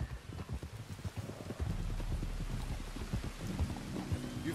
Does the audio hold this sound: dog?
no